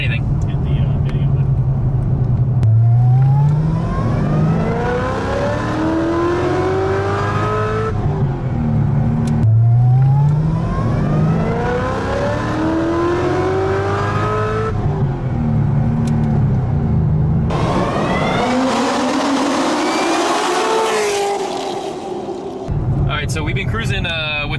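A Corvette ZR1 rated at 800 horsepower cruising in stock mode with the exhaust closed, a low steady engine drone that rises in pitch through repeated gear sweeps, with voices talking over it throughout.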